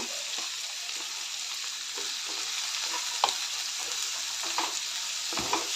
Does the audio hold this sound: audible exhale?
no